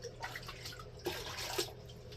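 Water splashes and trickles quietly as a cup is rinsed out, with a couple of soft drips and sloshes, faint and close by, no voices.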